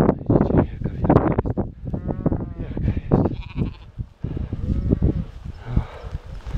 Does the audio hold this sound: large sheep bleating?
yes